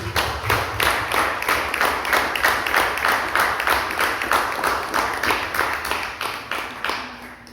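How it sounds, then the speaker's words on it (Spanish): A church congregation claps in a steady rhythmic beat, loud and sustained for several seconds, then tapering off at the end. "Déselo fuerte el aplauso una vez más, Señor."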